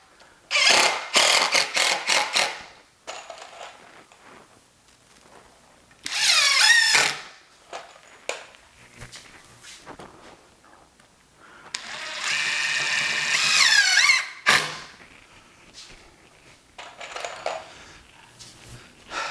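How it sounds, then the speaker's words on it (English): Bursts of a power drill driving screws into a temporary counter that will later serve as a workbench, several short whirring runs with pauses and clicks between them, close and fairly loud. "For kicks and giggles, I'll go ahead and put the other screw in."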